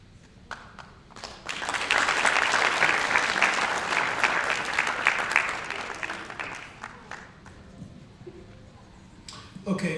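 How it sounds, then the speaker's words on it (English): An audience at a summit conclusion breaks into sustained applause, dense clapping swelling for several seconds and fading, with a few scattered claps before and after. "how about giving these girls a round of applause?"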